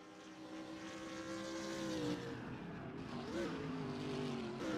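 Ferrari race car in a GT racing video game at Watkins Glen, a droning engine with tonal harmonics that swell, rise and dip as it shifts and accelerates, fairly faint and with no voices.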